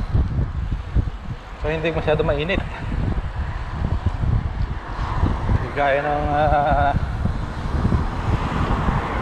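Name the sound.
wind blowing during a bicycle ride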